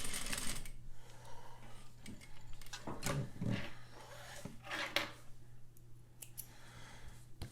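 A sewing machine backstitching on a rolled hem, heard as quiet, fairly distant mechanical whirring and ticking over a low steady hum, with a few brief knocks in the middle and no voices.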